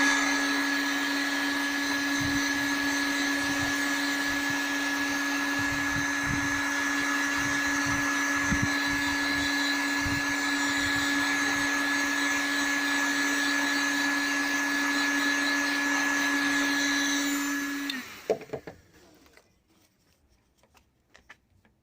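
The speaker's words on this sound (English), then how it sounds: "Get off what you can with heat gun" A heat gun blows steadily on a Talbot Express van to lift its decals, a continuous whirring airflow with a fixed hum that stays loud and even for most of the stretch, then cuts off, leaving quiet handling noises.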